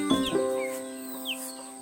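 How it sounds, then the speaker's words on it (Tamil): White chickens and a young chick on a small farm give brief high clucks and calls, close and fairly loud, over a steady background hum; no one talks. "இதுதான் நம்ம வெள்ளை கோழி குஞ்சு"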